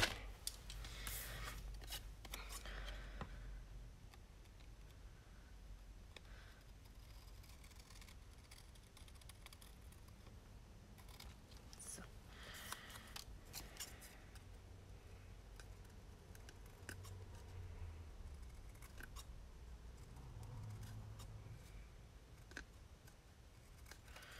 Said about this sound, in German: Ich nehme die große Schere.